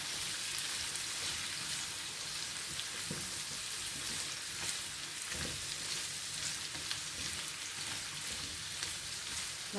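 Carrots sizzle and crackle in hot oil in a pan, a steady close frying hiss with occasional louder pops and no talk.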